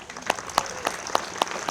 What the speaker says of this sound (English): a big thank you and round of applause for our Honor Guard